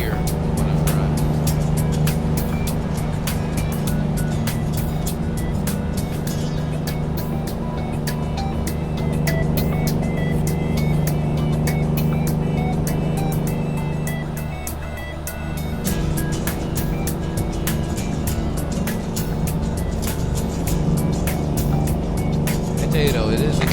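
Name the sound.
Kenworth T2000 truck engine in video game American Truck Simulator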